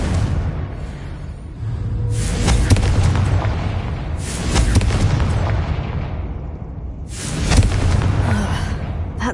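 Confringo fire spell explosions in the Hogwarts Legacy game, three loud booming blasts a couple of seconds apart, each a heavy burst decaying into rumble over continuous combat noise.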